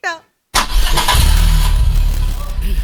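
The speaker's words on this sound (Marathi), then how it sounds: "हा गाडी सुरू कर." A car engine cranks and catches, then runs loud and close with a rough, steady rumble that fills the scene.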